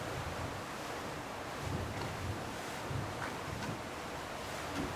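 Steady gusty wind roars across the microphone over the wash of waves against a Seawind 1160XL sailing catamaran under way, a constant broadband rush with small surges and no voices.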